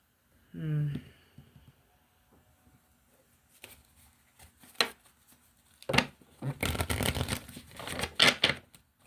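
Tarot cards being shuffled and handled during a reading, a short vocal sound early, then scattered taps and a louder riffling burst in the second half, close and fairly crisp.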